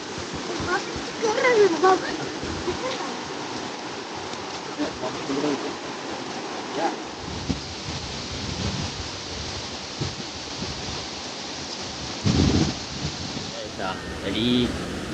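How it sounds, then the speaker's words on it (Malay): Rain pattering and splashing steadily at a riverside campsite on the Chor River, a dense close hiss with occasional heavier spatters and brief voices underneath. "Hujan."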